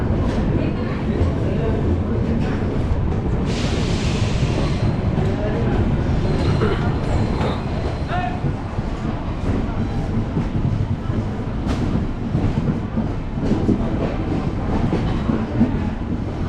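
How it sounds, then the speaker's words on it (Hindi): The Ernakulam Duronto Express pulls out of Ratlam station with a steady loud rumble and rhythmic clatter of wheels on rails, continuous throughout with a brief higher screech early on. "Departing from Ratlam after 5 minutes of its schedule halt."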